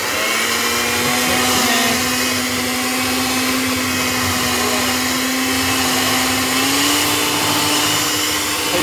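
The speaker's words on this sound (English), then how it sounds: "now we're gonna mix this stuff up." Electric mixer beating keto chocolate chip blondie batter with egg: a loud, steady motor whine that runs unbroken, close up, and shifts slightly in pitch near the end.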